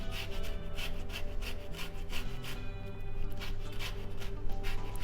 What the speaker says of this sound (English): And let's give it some orange zest.